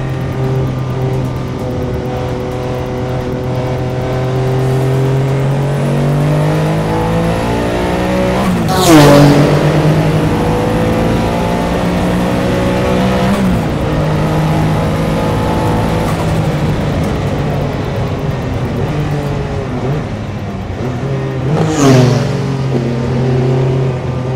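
Porsche 962 Le Mans race car engine heard from inside the cockpit, loud and sustained as it revs and pulls through gears, with sharp upshift sweeps and a steady droning note.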